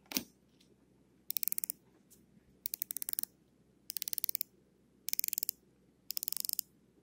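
Solid steel bezel of an Invicta Grand Diver watch being turned in six short bursts, each a quick run of sharp, crisp ratcheting clicks, close and clear against a quiet background.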